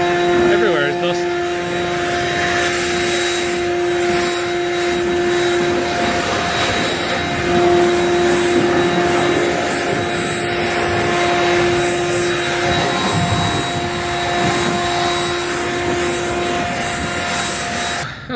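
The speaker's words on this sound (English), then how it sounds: "You never really know where to stand when you're blowing down the baler." An air blower roars continuously and loudly while dust is blown off a baler, a steady rushing whine with a strong tonal hum throughout, and a voice talks over it.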